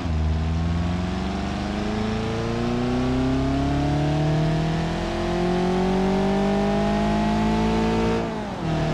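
Simulated Coral MPI with a multi-point injection 1.4 liter dual overhead cam engine revving in BeamNG.drive, a loud sustained drone whose pitch climbs steadily for eight seconds before dropping abruptly at the end.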